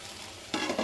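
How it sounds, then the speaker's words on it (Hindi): Tomatoes with spices fry in a pan for a jimmy kanda (elephant foot yam) vegetable dish, a soft steady sizzle that swells with two brighter stirring bursts near the end. "टमाटर डाल के सबको फ्राई कर रही हूँ।"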